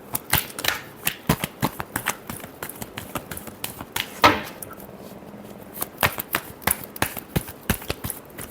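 Tarot cards are shuffled by hand in a series of crisp, close riffling snaps and taps, bursts coming in irregular rhythm with a louder rustle midway.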